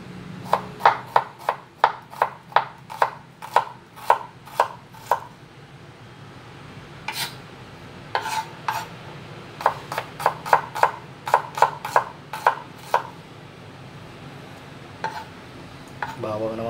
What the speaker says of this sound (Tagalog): Maghiwa na ang sibuyas.